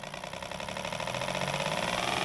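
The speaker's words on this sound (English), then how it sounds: "if I slowly open the throttle" Car engine rising steadily in revs as the throttle is slowly opened from idle, a continuous mid-pitched drone building gradually in loudness with no talk.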